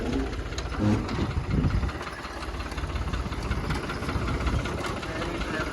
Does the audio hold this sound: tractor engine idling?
yes